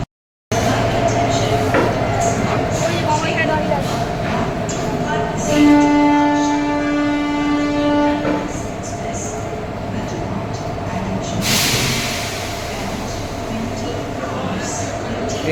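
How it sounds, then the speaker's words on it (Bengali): Coaches of the Shalimar to Puri train are coupled at a station, with a steady rumble and a sustained horn note in the middle, then a burst of hissing air toward the end. "ইতিমধ্যে কিন্তু ইঞ্জিনিয়াররা লেগে পড়েছে নিজেদের কাপলিংয়ের কাজে ট্রেনটাকে জোড়ার জন্য।"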